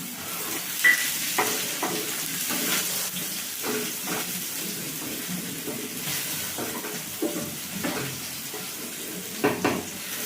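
A palm-fruit and egg paratha fries in oil in a village kitchen, with a steady, moderate sizzle and occasional spatula scrapes and clinks recurring throughout.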